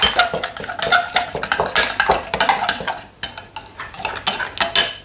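A utensil scrapes and clinks against a bowl in quick, uneven strokes while chicken tikka is mixed. The sound is close and fairly loud, with no speech.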